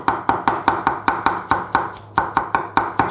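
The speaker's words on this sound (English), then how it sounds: "So once you've given them that first rough chopping, the next thing is to just keep doing that" A knife chops vegetables finely on a board for bolognese, striking in a fast, steady rhythm of about three crisp cuts per second, close and clear, with no talking.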